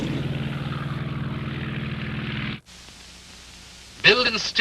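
A wartime de Havilland Mosquito twin-engine propeller aircraft drones loud and steady with a pulsing beat, cuts off abruptly, then a fainter sound follows before a second loud burst near the end.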